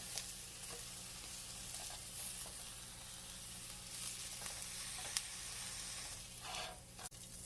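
Pineapple pieces browning in a frying pan give a steady, quiet sizzle, with occasional soft pops and a brief scrape or clack near the end, no voices.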